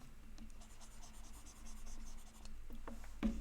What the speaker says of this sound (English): let me write it neat.